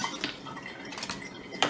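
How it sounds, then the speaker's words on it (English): Ice cubes poured into a metal strainer set on top of a jar, giving a few sharp clinks and rattles, with a brighter clatter near the end, close and fairly quiet with no talk. "you want to pour the ice cubes into the strainer"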